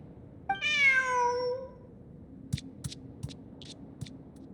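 A cartoonish cat meows once in a long, rising-then-falling call inside the video game Genshin Impact, followed by a few quiet clicking footsteps, with no talk over it.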